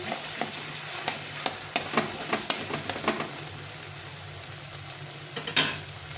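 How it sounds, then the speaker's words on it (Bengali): Spices with Kashmiri chili powder sauté in a pan for a pointed gourd curry, a low sizzle under a quick series of spatula scrapes that fade, then a couple more strokes near the end, close by. "এটাকে আর একটু কষিয়ে নিতে হবে কিছুক্ষণ ধরে।"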